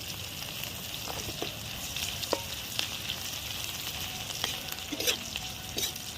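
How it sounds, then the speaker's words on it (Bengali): Chopped onions fry in hot oil for a pointed gourd (potol) dorma, giving a steady close sizzle broken by scattered clicks of a utensil stirring them. "পেঁয়াজটা লাল করে ভাজবো আমি।"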